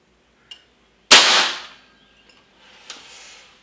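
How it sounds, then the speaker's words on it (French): Two shots from a Snowpeak AP-1000 air rifle, a 42-joule model, fired without its shroud and moderator: a faint snap first, then a loud sharp crack with a brief ringing tail, followed by a quieter second report. "Je réalise 2 tirs sans le shroud et le modérateur pour vous donner une idée au niveau du bruit."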